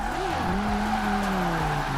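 Audi R8 engine droning steadily in Forza Horizon 4, with tires squealing and skidding through a corner. The sound is loud and continuous, close up, with no talk over it.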